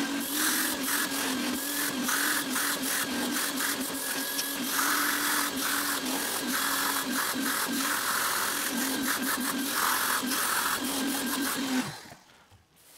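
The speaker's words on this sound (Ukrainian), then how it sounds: "І зараз промиваємо то все миючим пилососом." A washing vacuum cleaner extracts fabric car seat upholstery with a steady, loud whirring drone, broken by rhythmic rasping passes of the nozzle, then cuts off at the end.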